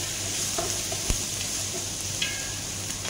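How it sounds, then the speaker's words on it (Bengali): Onion and garlic fry in oil in a pan, a close, steady sizzling hiss with a few light stirring clicks over about three seconds, no voices. "পেঁয়াজটা হালকা পরিমাণ কষায় হওয়ার পরে দিয়ে দিলাম ভিতরে রসুন"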